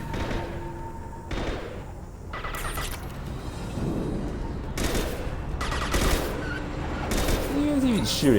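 Bursts of gunfire and impacts in the video game Mass Effect 2, irregular volleys with thuds, heard under a voice talking over the action.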